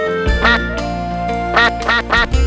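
Ducks at a pond give several loud, close quacks in quick bursts over a sustained musical background.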